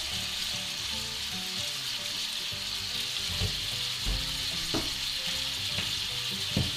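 Tomato sauce for a marmitako sizzles and bubbles steadily in a pan, a soft continuous fry with occasional small pops and spoon stirs, heard alone at a moderate, close distance.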